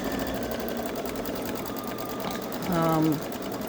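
A Babylock Solaris embroidery machine stitches a truck design onto a T-shirt with a steady continuous whir, while a person talks over it and a brief louder tone rises near the end.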